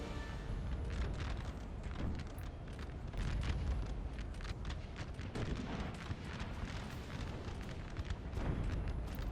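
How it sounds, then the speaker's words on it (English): In the Napoleon Total War video game, artillery fire and explosions destroy a building, giving a continuous, fairly quiet roar of booms and crumbling noise across a battlefield, with no talk. "Well, the artillery just destroyed a building."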